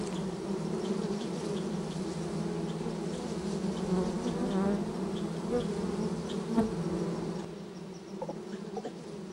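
Bees buzz in a dense swarm around a wild black bear raiding honey, a steady, loud, continuous drone that holds throughout with no voices.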